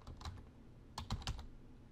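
A computer keyboard being typed on, a few quick soft key clicks in two short bursts, close and quiet, with no talking.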